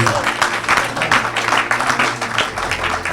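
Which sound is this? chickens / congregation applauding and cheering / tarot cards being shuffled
congregation applauding and cheering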